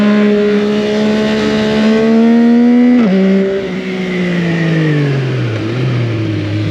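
A 2025 Yamaha MT-09 SP naked motorcycle engine revs loudly and steadily as the bike accelerates on a ride, pitch climbing, a brief dip for a gearshift, then falling as it eases off, heard close and alone.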